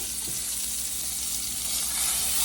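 Thin pork chops sizzle steadily in a hot pan, a continuous bright hiss of frying fat with faint turning clatter early on, close and fairly loud throughout.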